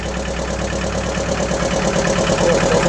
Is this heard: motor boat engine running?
yes